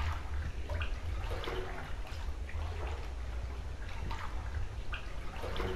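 Water splashing and sloshing while swimming in The Complex: Found Footage, a continuous, fairly close churn of water with small repeated splashes, steady throughout and with no talk over it.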